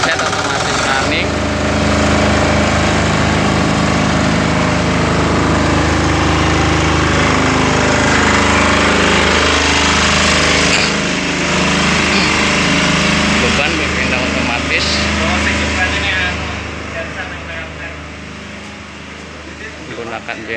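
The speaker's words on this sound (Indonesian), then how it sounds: "Genset otomatis running." A Tsuzumi TDG 15000 S-3 generator set with an automatic transfer panel runs on its own after a mains power cut, giving a loud, continuous engine drone with a deep steady hum that eases slightly near the end.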